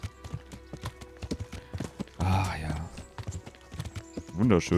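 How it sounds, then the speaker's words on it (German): A horse clip-clops along at a steady rhythmic pace in the video game Kingdom Come: Deliverance, its hooves mostly under someone speaking German, with a louder burst of sound partway through. "Mit so einem Pferd zu reiten hat schon was."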